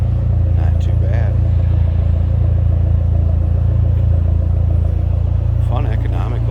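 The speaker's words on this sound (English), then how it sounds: "Throaty little exhaust note." A 2003 Dodge Neon SRT-4 in very good condition idles steadily with a throaty, low exhaust rumble heard from behind the car, with a few light clatters over the drone.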